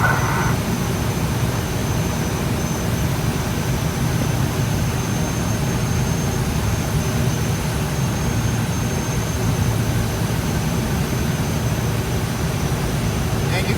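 Steady, loud engine drone of a tow airplane pulling a glider in flight, a continuous low rumble with a thin high whine running unbroken throughout.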